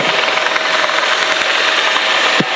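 A rescue helicopter comes in for an extreme landing, its rotor and turbine roaring loud and steady throughout, with a brief thump near the end and no voices.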